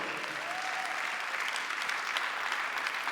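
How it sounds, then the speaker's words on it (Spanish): A church congregation claps for the Lord during a Spanish-language sermon on the Holy Spirit, a steady wash of applause spread across the room, moderately distant and even throughout. "Denle un aplauso fuerte al Señor"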